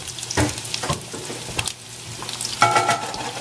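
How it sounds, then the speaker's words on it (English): Mushrooms frying in olive oil and butter on a stovetop, a close, steady sizzle broken by a few sharp pops and stirring scrapes. "let's just cook those down for 2 minutes."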